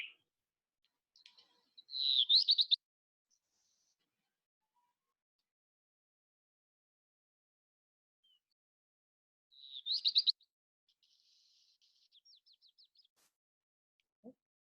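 Recorded birdsong played back from a bird identification website: two bright bursts of chirping tweets separated by silence, followed by a softer run of rapid, evenly spaced notes, clean and isolated with no talk.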